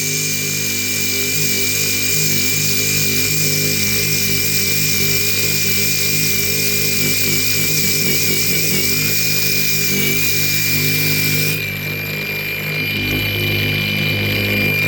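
A power sander works a handmade piece with a loud, steady motor whine and grinding hiss that runs almost unbroken, then shifts tone near the end; no one speaks.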